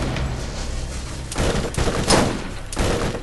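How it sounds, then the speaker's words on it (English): Rocket launcher firing in the video game Borderlands: a continuous roar of loud explosive blasts and rumbling booms, with several heavier bursts swelling out of the dense din, no talking. "Finally, have a long-range weapon. It's a rocket launcher."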